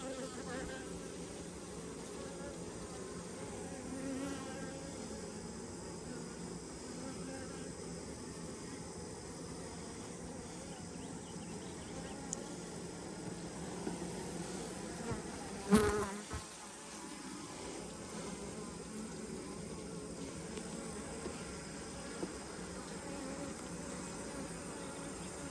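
Honeybees buzz in a continuous, dense drone during a hive cutout removal from a church about 40 feet up, with a brief sharp knock partway through.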